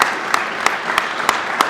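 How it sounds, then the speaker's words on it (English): A small gathering gives a round of applause for police department staff at a city announcement, with five evenly spaced, distinct claps standing out over a soft background of scattered clapping. "Give them a round of applause."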